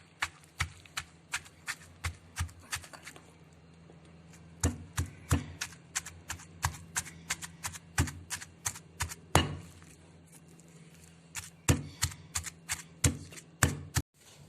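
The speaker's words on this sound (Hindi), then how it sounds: "और ये 6 मसाले। और इनको दोबारा कूट लूंगी।" Six spices for beef kofta are pounded again in a mortar: sharp, close, irregular thuds arrive in quick clusters with short pauses, and no one speaks.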